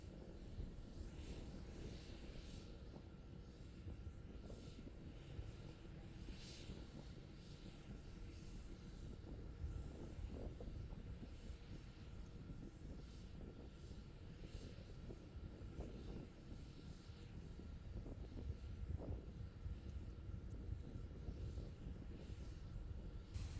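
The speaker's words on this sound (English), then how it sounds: "continuing to climb on power of 2 engines" A steady, continuous roar of SpaceX Starship SN11's rocket engines during its high-altitude test flight, climbing on two engines, fills the whole stretch, broadband and unbroken, with a faint windy rush over it.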